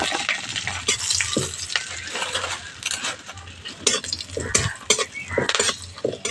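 Whole cumin seeds and slit green chillies sputter in hot oil, a busy close sizzle with frequent metal spoon scrapes and knocks against the pan as the tempering is stirred.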